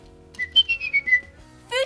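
A small furry Tiny Furries toy whistles a short run of bright, gliding chirps that step downward, then ends with a quick rising trill, close by and with no voices over it.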